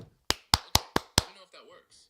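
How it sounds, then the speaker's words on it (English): Five sharp hand claps ring out one after another at an even pace, close and distinct, followed by a brief stretch of quiet talk. "All right, I'll try clapping my hands."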